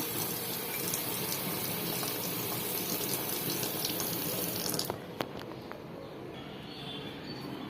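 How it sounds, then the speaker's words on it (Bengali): Water is poured over potted plants on a home balcony on a sunny morning: a loud, steady gush for about five seconds that suddenly stops, leaving a quieter trickle and a few scattered drips. "গাছগুলোতে এখন পানি দিয়ে দেবো।"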